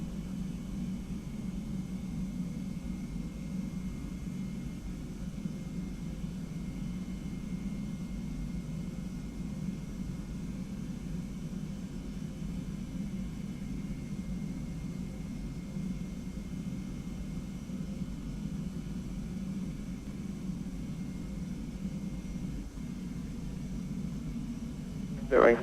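A Boeing 717 in a flight simulator game rolls for takeoff from runway 24 left at Las Vegas, a steady low engine roar and rumble holding for the whole stretch beneath radio voices.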